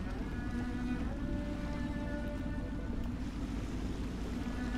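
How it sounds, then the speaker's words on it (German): A low, steady engine hum and churning water from a boat under way in the video game Dishonored, continuous and fairly quiet, with faint tonal whines above it. "Ich sollte mich darauf konzentrieren, dieses Boot zu steuern."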